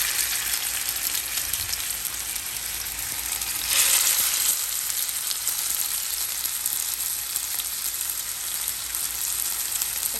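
Chicken pieces frying in hot oil for a Kerala-style spicy masala chicken fry, a steady close sizzle throughout with a brief louder burst of crackling midway.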